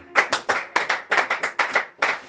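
A church congregation claps in response to a preacher's call to acclaim God, a dense burst of hand claps falling into rough rhythmic groups, close and loud, with no cheering voices evident.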